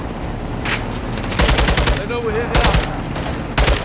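Loud automatic gunfire from a convoy hostage rescue in Call of Duty: Modern Warfare 2 comes in several sharp rapid bursts, with shouted voices and radio chatter between and under the volleys.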